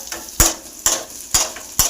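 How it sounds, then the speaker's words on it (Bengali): Onions frying in a pan under a soft sizzle, broken by four evenly spaced scraping stirs of a utensil against the pan, close by and with no voices. "আমি ভাজছি পেঁয়াজ"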